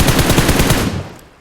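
Rapid automatic gunfire in a battle royale video game, a loud burst of closely spaced shots that cuts off and fades about a second in.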